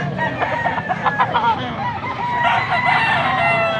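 A rooster crows loudly and close by at a market, a long strained cock-a-doodle-doo with clucking around it, and faint background voices.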